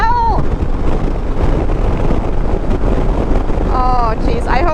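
Heavy wind buffeting the microphone while riding a 2024 Harley Davidson Road Glide motorcycle, a loud constant rumbling roar throughout, with brief voiced sounds breaking through near the start and end.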